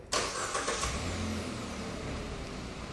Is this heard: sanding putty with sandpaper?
no